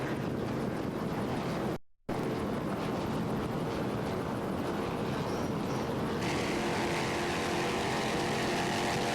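Offshore powerboats race on the Great South Bay off Patchogue, New York, a continuous loud engine roar with wind buffeting the microphone and a brief dropout partway through.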